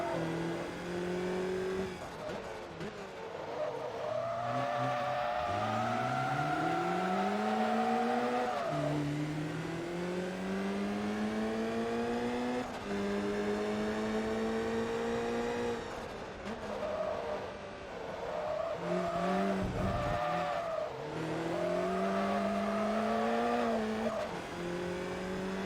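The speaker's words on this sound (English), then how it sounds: "So much power and torque, it just pulls the car sideways." A powerful race car in the Forza Motorsport 2 rallycross game slides sideways, its engine revving hard and continuously, rising and falling through gear changes for the whole stretch.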